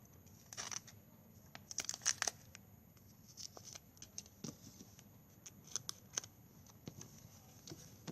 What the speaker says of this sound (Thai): ตัดทิ้งไปหน่อยหนึ่งค่ะ